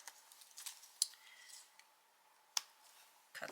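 Scissors snip thread after a pamphlet stitch in a junk journal, two sharp, faint, close cuts a second or so apart amid soft handling noise.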